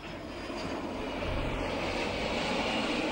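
A Yakovlev Yak-141 supersonic jet aircraft engine roars as a broad, steady, loud rushing drone that swells slightly toward the end, with no voices over it.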